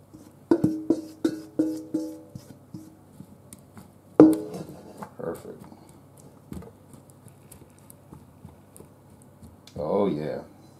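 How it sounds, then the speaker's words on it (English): Chopped potatoes are scraped and spread into a baking pan, giving a run of quick clattering scrapes and taps, one harder knock, then a softer rustling shuffle near the end, with no one talking over it. "we're ready to put it in the baking pan here. Spread it out nice and good"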